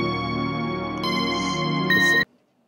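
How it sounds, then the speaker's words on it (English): Solo bell synth made in Logic, bright sustained bell-like tones ringing over a layered electronic backing, played alone and cutting off abruptly near the end. "and then I introduced the solo bell synth."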